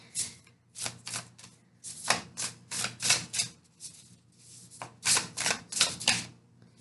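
Rapid bursts of tarot card shuffling, crisp riffling clatters repeating in quick clusters with short pauses between, close and fairly quiet, no talking.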